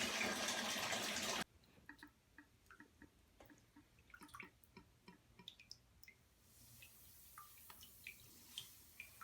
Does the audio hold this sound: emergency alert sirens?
no